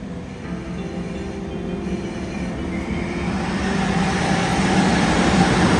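A JR Freight EF64 electric locomotive rolls slowly into a station, low rumbling wheels growing gradually louder, with a high steady electrical whine overhead.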